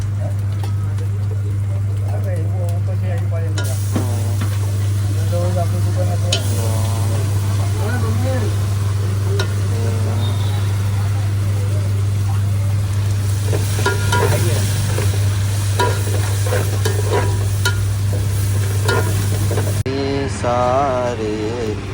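Vada pav bhaji filling with curry leaves being stirred and fried in a pan, a steady sizzle with scraping spoon strokes under a constant low hum, while people talk now and then nearby.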